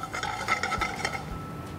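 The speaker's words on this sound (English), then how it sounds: "You need to roast this till it pops like this." Flax seeds roast in a pan and are stirred, making close rattling scrapes and light popping ticks in an uneven rhythm over about two seconds. No one talks.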